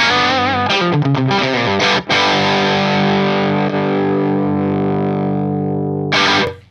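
A distorted electric guitar runs through the Axe-Fx III FAS Rhythm amp model with a V30 speaker impulse, playing quick chugging stabs, then a long sustained chord that rings out before a final short hit, loud and with no voices.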